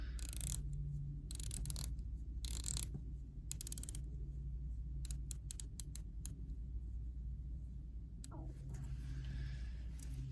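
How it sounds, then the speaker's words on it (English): A Breitling Superocean dive watch bezel turned by hand gives bursts of close, dry ratchet clicks in quick runs, separated by short pauses over a steady low background hum. "Definitely want to try to grab the rider tabs when you're rotating the bezel on this."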